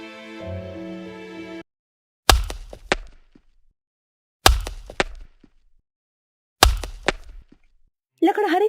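A woodcutter chops wood with three heavy, evenly spaced thwacks, each ringing and trailing off into short rattles, with quiet gaps between and a brief musical tone at the start.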